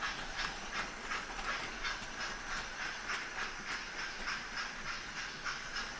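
A model railway locomotive with sound fitted, a Scottish layout based at Ardrossan in Ayrshire, labours slowly uphill with steady hissing chuffs and rhythmic clicks, close and continuous, with no talk.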